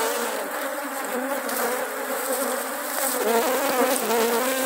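Honeybees buzz densely around a hive in an apiary during feeding, a steady close drone of many insects with no talk.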